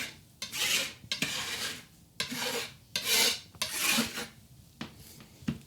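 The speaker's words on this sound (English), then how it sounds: "And this we'll scrape up." Frosting scraped up from a gluten-free wedding cake, heard as a series of close, raspy scraping strokes in short bursts with brief pauses between them, no voices.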